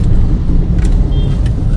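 Congested road traffic in Siliguri gives a loud, steady rumble of nearby engines with faint brief horn-like tones, and no talk.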